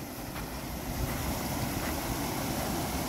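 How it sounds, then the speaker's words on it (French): Mountain waterfall heard close up as a loud, unbroken broadband roar of rushing water, with no voices. "Regarde cette cascade si elle est trop jolie."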